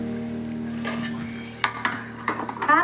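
Crushed raw garlic drops into chicken frying in a pan for gongura chicken, with a soft steady sizzle followed by a few sharp clatters and stirring scrapes near the end.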